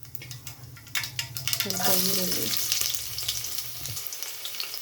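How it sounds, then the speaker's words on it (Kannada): Mustard seeds hit hot oil for a tempering in a pan. A bright, crackling sizzle swells and then settles, and rapid small pops and utensil clinks sound close by while a voice speaks briefly. "ಈಗ ಸಾಸಿವೆ ಸ್ವಲ್ಪ ಹಾಕ್ತಾಯಿದ್ದೀನಿ"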